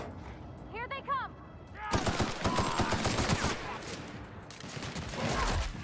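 Gunfire in the video game Murder on Eridanos, bursts of rapid shots and fusillades that start after a short pause and then run dense and loud to the end, with a voice heard briefly before.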